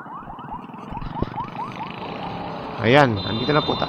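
An ambulance siren wails with a rising, repeating yelp during a motorcycle ride on Marilaque Highway, loud and close, under engine noise and people talking, then a sharp swooping blast near the end.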